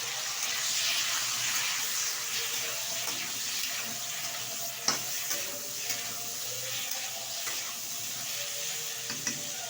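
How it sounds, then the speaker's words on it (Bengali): Cauliflower pieces sizzle steadily in hot oil in an open pan, a continuous bright frying hiss with occasional small pops and stirring clinks, close and alone without talk. "এখন তেলের মধ্যে ছেড়ে হালকা করে ভেজে নেব"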